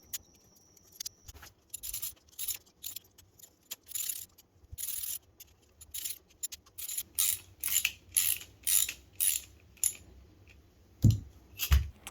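Hedge trimmer blades, freshly sharpened and reassembled, worked back and forth by hand, giving a series of repeated metallic clicks and ratcheting scrapes in short bursts, close and fairly quiet, ending with a couple of sharper knocks.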